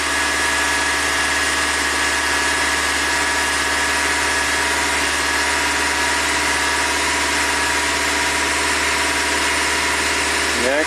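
A car engine held at a raised 2,500 RPM, a steady, loud mechanical hum with constant vibration that runs unchanged through the whole stretch, with no one talking.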